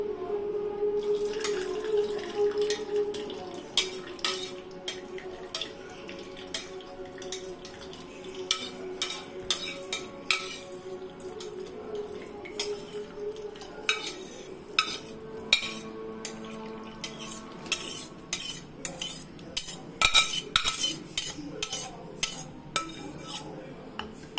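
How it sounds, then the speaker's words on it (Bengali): Thick gravy masala gets spooned from a pan into a mixer jar while parwal is being cooked, making sharp metallic clinks and scrapes of a spoon against metal in an irregular rhythm, close by with no voices. "এবার আমি এটাকে মিক্সির জারে ঢেলে দিচ্ছি।"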